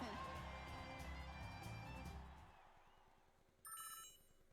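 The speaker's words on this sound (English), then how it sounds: "Oh, I hear a phone." A phone rings in the video game Pokemon Masters EX: a bright, repeating electronic ring tone cuts in near the end, after a fuller stretch of background game music fades down.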